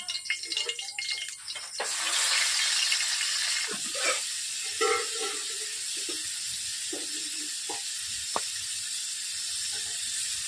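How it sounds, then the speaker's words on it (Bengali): Crabs coated in salt and turmeric drop into hot oil, setting off a loud, steady broadband sizzle and hiss that swells after a quieter start, with occasional pops and spatters close by. "তেল গরম হয়ে গেছে, আমি কাঁকড়াগুলোকে ভেজে নিচ্ছি।"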